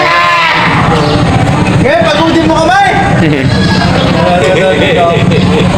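A live goat bleats at a livestock market amid nearby shouting voices, loud and close, with a steady crowd babble underneath.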